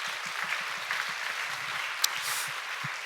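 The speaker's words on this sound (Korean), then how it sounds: "우리 너무나도 수고해 주신 우리 교육자님들께도 한번 박수해 주시면 감사하겠습니다" A church youth-group audience applauds the education staff after a retreat, a brief spell of moderate, steady clapping from a crowd in a hall.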